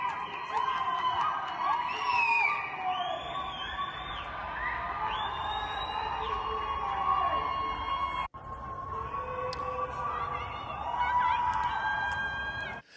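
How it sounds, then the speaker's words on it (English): A large crowd cheers and whoops continuously, a dense roar of shouting voices with high excited yells rising above it, loud and sustained with a brief cut partway through. "There's a lot of cheering."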